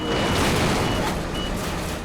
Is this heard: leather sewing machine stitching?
no